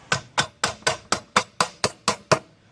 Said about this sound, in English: sometimes it will give you a hard time, so you might need to use a hammer